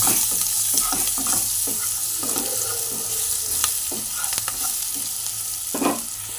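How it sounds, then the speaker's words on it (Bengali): Onions browning with a little turmeric in a hot pan are stirred steadily, a constant close sizzle broken by repeated scraping strokes of the spoon, with no voices. "এর মধ্যে সামান্য পরিমাণে হলুদ দেব দিয়ে একটু ভালো করে নাড়িয়ে চালিয়ে নেব"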